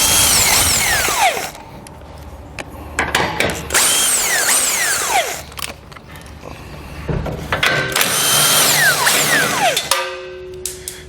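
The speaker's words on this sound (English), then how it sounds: "Let's take an 18mm socket. We're going to remove the 4 nuts on each side holding our bumper beam in place." Socket ratchet and power tool spinning 18mm nuts off a car's bumper beam during a trailer hitch install, loud close whirring bursts and ratcheting clicks that repeat in several runs with short pauses between.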